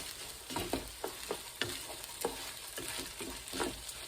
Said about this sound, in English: Stir like this.